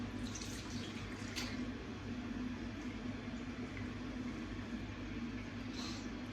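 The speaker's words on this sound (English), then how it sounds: "Just use some lukewarm water," Lukewarm tap water runs steadily from a faucet to wet a face during a skincare routine, a continuous close, even splashing hiss with no talking.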